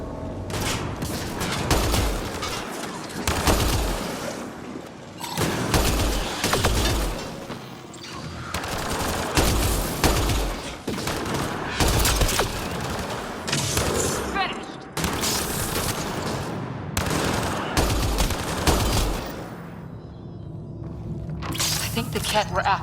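Sci-fi firefight in Mass Effect: Andromeda, with loud bursts of gunfire and blasts coming in repeated clusters, separated by brief pauses, close and heavy throughout.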